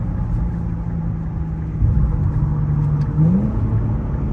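A modified Infiniti Q50 engine with downpipes and intakes drones steadily and rises in pitch as it accelerates, a low rumbling hum heard from inside the vehicle.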